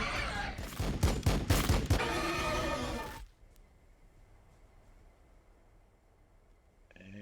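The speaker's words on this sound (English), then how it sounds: "Firing on the enemy." Rapid gunfire from Warhammer 40,000: Battlesector units rattles loudly in a dense volley for about three seconds, then cuts off to a quiet ambient hum.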